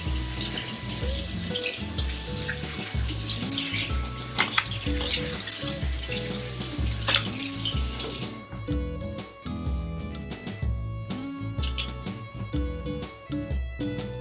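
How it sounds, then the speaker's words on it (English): A salad dressing container rinsed out under a running kitchen tap: continuous splashing water at the sink with clinks and knocks of handling, and music in the background. "I'm going to wash this out while you study the ingredients."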